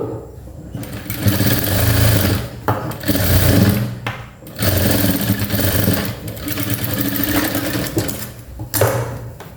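Sewing machine stitching a half-shoulder blouse, running steadily and loudly up close in long continuous stretches with brief pauses between runs.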